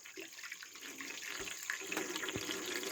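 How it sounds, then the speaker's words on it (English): Water runs from the tap valve of a rain barrel tower fed by five barrels, a steady close splashing stream that continues alone throughout. "so here's my running water"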